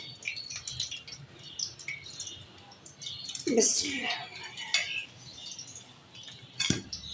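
Cooked naan pakora, a gram-flour-battered naan snack, is flipped out of the pan onto a plate, giving a couple of brief clinks of utensil and dish over a quiet kitchen background.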